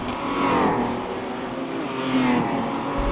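A Chevy race car at a Bathurst charity race accelerates hard up an incline, its engine note rising and swelling in a sustained roar, fairly close, with no talk over it.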